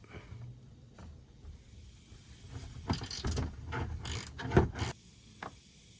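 A ratchet socket wrench backs out a 10 mm fastener during an oil change, giving bursts of quick clicking ratchet strokes, close and moderately loud, against a quiet background with no talk.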